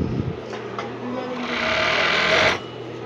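A Juki overlock machine sews a four-thread edge, starting with a couple of short stitch bursts and then running in one steady, loud, close mechanical whir for about two seconds before stopping.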